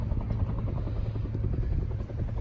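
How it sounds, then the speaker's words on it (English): A helicopter drones steadily overhead, its low rotor thump pulsing continuously at moderate loudness with no other sounds. "But we hear a helicopter somewhere."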